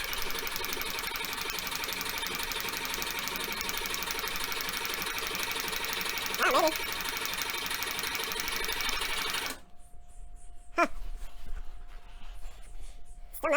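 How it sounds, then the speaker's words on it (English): A 1973 VW Thing with a newly installed engine cranks over steadily, a continuous loud mechanical churn with repeated rhythmic pulses that runs for about nine seconds, then cuts off to near quiet with a few clunks and a faint hum. "we're gonna crank it over again until we get oil coming out of the return line"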